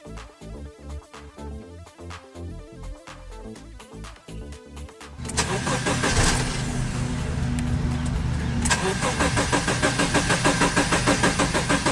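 A 2013-2014 Subaru Outback engine cranks with a rhythmic starter chug, then turns into a loud, steady engine run that continues to the end.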